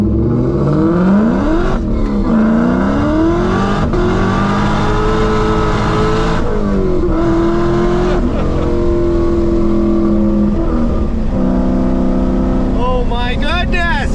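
A Ford SVT Cobra Terminator accelerates hard from inside the cabin, its engine droning loud and close and rising in pitch through repeated gear changes, with a person talking over it.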